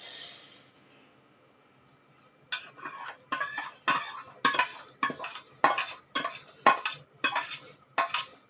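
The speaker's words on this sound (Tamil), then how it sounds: "இப்போ நம்ம சேமியாவை போட்டுக்கலாம்" Vermicelli goes into a pan of boiling water for semiya kesari and is stirred in a steady series of about a dozen sharp scraping strokes, close and fairly loud, after a brief quiet start.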